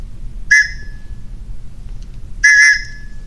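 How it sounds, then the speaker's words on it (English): A TOPS Knives survival whistle sounds twice, loud and close: a short shrill blast, a pause, then a slightly longer blast over faint background noise. "One blow of the whistle"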